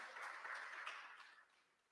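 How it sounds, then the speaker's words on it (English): Crowd applause at an outdoor community gathering in Les Coteaux, Tobago, a steady wash of many hands clapping that holds strong for over a second, then thins and fades toward the end. "Give him a lusty round of applause"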